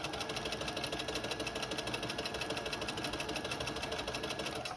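A sewing machine stitches a seam on a toddler romper, running at a fast, even mechanical rhythm close to the mic for the whole stretch with no voices.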